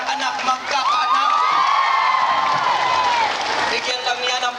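Church congregation at an Easter Sunday service clapping and cheering together, a dense wash of applause with whoops and shouts rising over it, loud and sustained throughout.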